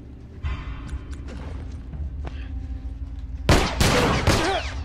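Gunfire in The Last of Us video game: a few scattered mechanical clicks and creaks, then a loud burst of several sharp, close shots near the end.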